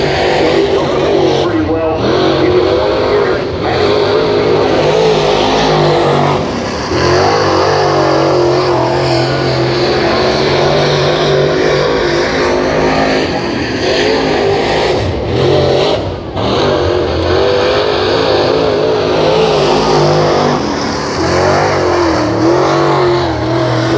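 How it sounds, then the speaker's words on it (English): Race cars roaring around a track during a night race, with loud engines revving and accelerating in repeated surges while an announcer talks over the noise. "Pilgrim and Capital Race Cars"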